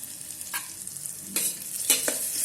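Chilli chicken seasoned with garam masala powder is stirred inside an electric kettle: a few scraping, clinking stirs over a steady sizzle, close up and with no talking.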